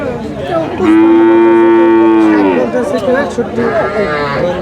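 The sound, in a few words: cattle mooing at a cattle market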